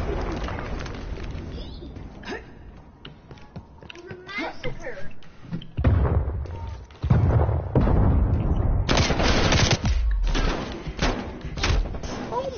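Gunfire in a first-person shooter video game comes as loud irregular bursts and sharp blasts, mixed with game sounds and excited speech that runs through most of the clip.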